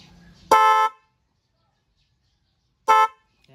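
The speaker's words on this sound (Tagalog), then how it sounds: "Ibig sabihin, naka-ready na yung ating busina." Two short, loud car horn blasts separated by a couple of seconds of silence, sounding close.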